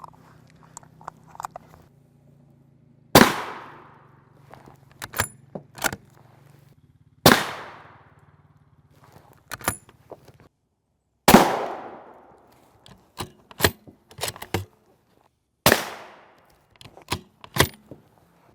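Rifle shots from M2AP armor-piercing rounds striking a Level IV armor plate left outdoors for three years: four loud, sharp cracks spaced a few seconds apart, each followed by a short decaying ring, with scattered smaller clicks and knocks between.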